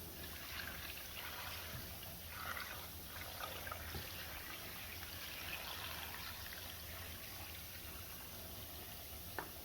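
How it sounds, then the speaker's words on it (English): Cold water pours into a pot of beef and chicken bones for broth, a faint, steady trickling stream running throughout, close but quiet, with no talk. "And then we're gonna top it with water. Cold water, not hot."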